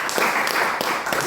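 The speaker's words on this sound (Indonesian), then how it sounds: "kita beri tepuk tangan oleh Pak Isnan" Brief applause from a business opportunity seminar audience, a short burst of clapping heard fairly close for about a second.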